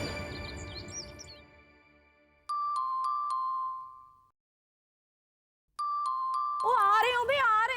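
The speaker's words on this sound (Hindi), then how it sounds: "घंटी पे घंटी बजाए जा रहे हैं" An electronic doorbell in a home chimes twice, each time as a bright two-tone ring, separated by a pause of a few seconds and heard up close. Other warbling sounds follow the second ring.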